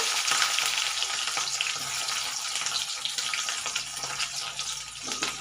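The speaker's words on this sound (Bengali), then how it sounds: "রসুনটা আমি খুব বেশি ভাজবো না, আমি হালকা ভেজে নেবো রসুনটা।" Chopped garlic lightly frying in a pan, a dense continuous sizzle with faint scraping stirs, close and fairly loud throughout.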